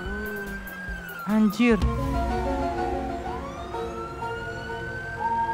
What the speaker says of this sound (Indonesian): ini matiin sirine mencet apa sih guys?